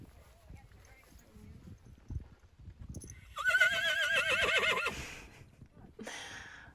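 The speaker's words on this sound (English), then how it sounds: "Talking to the other horses." A horse whinnies loudly at a horse show, calling to other horses, in a clear neigh lasting a couple of seconds, with hoof clip-clops and quiet talk before it.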